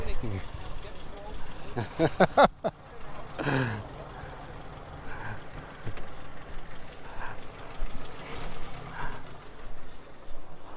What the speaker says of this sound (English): Just take in the sound of that wonderful engine.